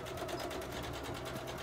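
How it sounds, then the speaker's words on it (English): A regular household sewing machine runs a steady zigzag stitch along the side seam of a transport bag made with PUL fabric, its rapid needle chatter constant and close throughout. "I zigzag the sides on the regular sewing machine"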